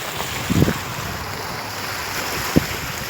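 Water pours steadily from a village fountain (çeşme) outdoors among old houses, a continuous rushing wash broken by a couple of brief low thumps, with no talking.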